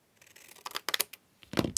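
Scissors snip paper to shape a junk journal tag, a few quiet, crisp cuts and rustles at close range in a short burst.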